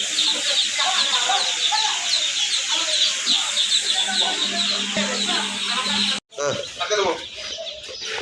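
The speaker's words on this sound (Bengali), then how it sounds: "আমাদের কাছে হিউজ পরিমাণ কালার বার্ড মুরগির বাচ্চা আছে।" Dense, continuous chirping and peeping of many coloured-breed and Sonali hybrid chicks crowded together at a poultry chick farm, loud and steady throughout with a brief dip near the end.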